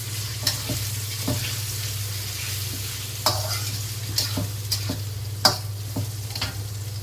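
Meat sizzling in hot oil over high heat with a steady crackling hiss, punctuated by occasional sharp pops and utensil clinks over a low hum.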